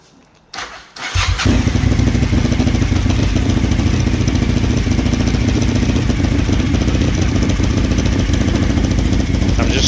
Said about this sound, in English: I need to start the engine, I need to run it, I need to get it warm